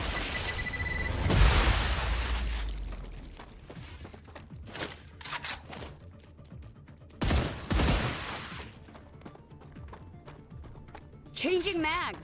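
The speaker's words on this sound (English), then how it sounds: "Might as well use the grenade while we have it." Grenade blast and gunfire in the sci-fi shooter StarRupture, opening with a heavy boom followed by scattered shots and a second burst of loud impacts, with a voice talking over the action.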